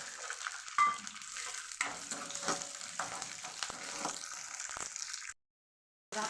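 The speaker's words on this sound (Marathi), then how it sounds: "यामध्येच बटाटा पण मी परतून घेते" Potatoes sautéing in a pan give off a steady close sizzle with scraping stir strokes, then cut to a brief silence near the end before the frying resumes.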